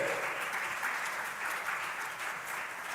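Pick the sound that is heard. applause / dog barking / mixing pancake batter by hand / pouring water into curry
applause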